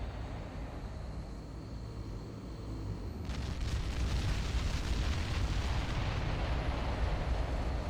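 Artillery bombardment explosions in the Ground Control strategy game: a steady low rumble that swells into a louder, sustained roar of distant blasts from about three seconds on, with no talk.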